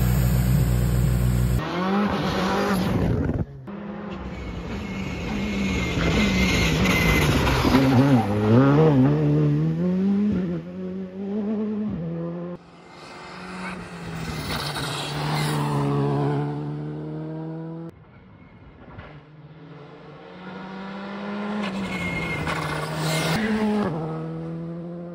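Onboard a Rally2 rally car on a pre-rally test run, the engine revs hard and repeatedly climbs through the gears, with brief lifts and gear changes between loud acceleration bursts and occasional tire noise.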